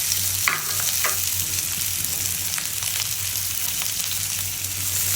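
Pangas fish frying in a pan of oil and spice paste over a gas flame, a steady close sizzle with a few brief scrapes and stirring knocks.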